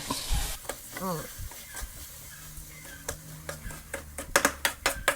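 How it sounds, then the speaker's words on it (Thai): Cooked rice tossed and stirred in a hot frying pan for Thai chicken rice, sizzling softly with scraping spatula strokes that turn into a quick run of sharp clicks and taps near the end, brief talk early on. "เราเอาข้าวของเราลงไปคลุกนะครับ"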